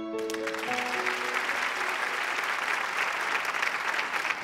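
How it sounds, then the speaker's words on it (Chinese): A television studio audience breaks into loud, sustained applause, dense clapping that fills the whole stretch after a fading musical note at the start. "为她鼓掌"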